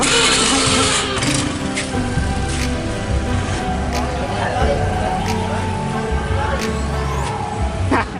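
A carbureted Honda Beat scooter engine runs steadily at idle throughout, a continuous mid-pitched putter with harmonic hum, while people talk over it.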